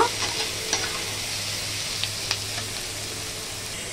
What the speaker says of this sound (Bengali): রসুন, পেঁয়াজ, আলু ভালো করে ভেজে নেব।